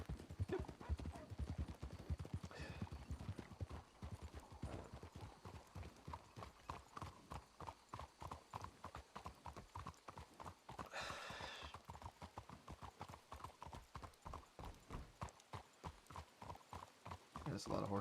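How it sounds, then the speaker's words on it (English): Many horse hooves clip-clopping in a video game, in a steady, dense rhythm, with a horse whinnying briefly and a voice talking over it. "That's a lot of horses."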